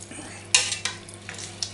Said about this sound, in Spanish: damos la vuelta al pollo